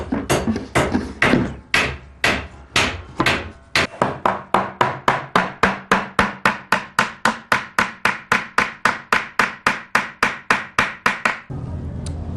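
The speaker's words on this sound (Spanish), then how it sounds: "Lo siguiente que vamos a hacer es a colocar el respaldo." A hammer drives into a wooden back panel on a handmade bone-and-wood bargueño cabinet, starting with a few uneven blows and then settling into a long, steady run of evenly spaced, loud, close taps.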